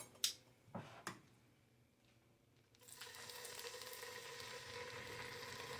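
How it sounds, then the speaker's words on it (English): Chicken searing in a pan for homemade soup: a couple of sharp knocks, a short quiet stretch, then a steady crackling sizzle that rises and holds through the rest, fairly faint and without speech. "So I'm just going to give this a little sear."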